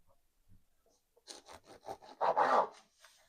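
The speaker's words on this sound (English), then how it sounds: "I am going to cut this in half with a serrated knife" A serrated knife saws through a tightly rolled log of plant-based gyro "meat" on a cutting board, giving a few soft rasping strokes that build to a louder, closer grinding cut near the end, with no talking.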